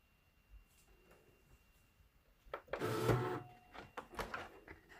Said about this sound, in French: Voilà, la découpe est finie. Il va me sortir le tapis.